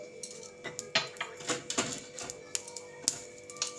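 Whole cumin, coriander and shahi jeera seeds drop into a pan for biryani masala, a quiet scatter of light ticks and small clinks repeating irregularly, close and alone without talk.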